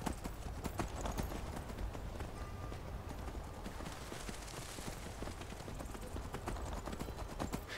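A horse's hooves clip-clop in a steady rhythm in the Skyrim video game, repeated evenly over a dull ambient background with no talk.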